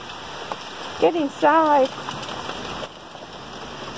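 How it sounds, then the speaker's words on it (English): Heavy rain falls steadily as a broadband hiss under the scene, with a brief spoken remark and a short tonal cry partway through. "And down comes a really heavy rain."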